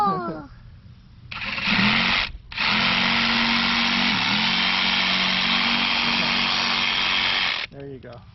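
A chainsaw carving a pumpkin roars loud and close in one sustained burst after a short rev, with brief voices before and after the cutting.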